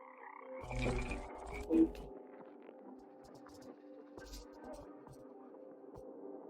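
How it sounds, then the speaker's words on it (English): Frogs held in a bucket let out a few rough croaks and throbbing calls over a steady low hum, close and fairly quiet, with no talk. "there's something wrong with this bucket of frogs"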